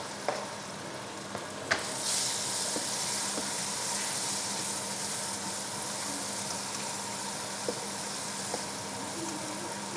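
Chopped onion dropped into a hot pan, setting off a sudden, steady sizzle that hisses continuously, with occasional clinks and stirring sounds over it.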